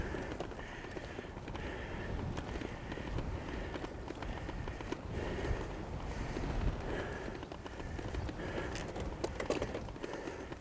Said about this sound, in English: That wind's really picked up.